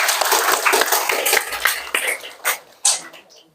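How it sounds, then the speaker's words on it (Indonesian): A small group claps in a classroom session at the close of a teacher-training practice lesson, brisk at first, then thinning into a few scattered, separate claps before dying out. "Bisa diberikan tepuk tangan untuk kita semua"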